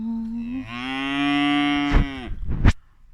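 Calves mooing and crying for their mothers, a loud close drawn-out bawl followed by two shorter harsh calls.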